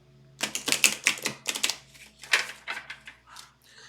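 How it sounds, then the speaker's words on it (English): Tarot cards shuffled by hand, a close run of dense riffling and flicking bursts in quick irregular succession, crisp and fairly loud with no talk over it. "as I shuffle the cards"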